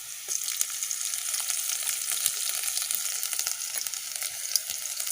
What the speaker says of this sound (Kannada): ಇವಾಗ ಇದಕ್ಕೆ 1 ಟೀ ಸ್ಪೂನ್ ಆಗುವಷ್ಟು ಶುಂಠಿ ಬೆಳ್ಳುಳ್ಳಿ ಪೇಸ್ಟನ್ನು ಹಾಕಿಳ್ತಿದ್ದೇನೆ